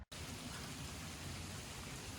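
Steady rain falling outdoors at a junkyard, a dense, even hiss of drops on surfaces that begins abruptly after a split-second gap and continues unbroken, close and moderately loud, with no talking.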